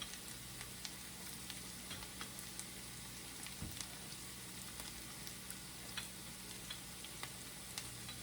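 Softened red onion frying in a pan as garlic goes in for a dried shrimp bharta, a faint steady sizzle with scattered light crackles and a single soft knock partway through.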